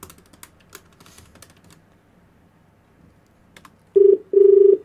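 Scattered faint clicks, then two loud, steady electronic tones in quick succession, like keypad beeps on a phone.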